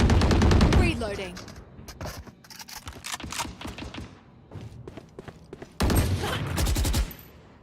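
Video game gunfire comes in rapid automatic bursts, dense and loud at the start, then scattered shots and mechanical clicks, and another heavy burst near the end, with a player talking over parts of it.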